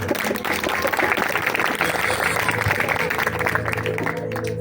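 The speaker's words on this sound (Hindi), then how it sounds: "बंदा के लिए जोरदार तालियां बजाएं" Loud sustained applause from a church congregation at a worship service, steady crowded clapping that continues throughout with some voices and background tones underneath.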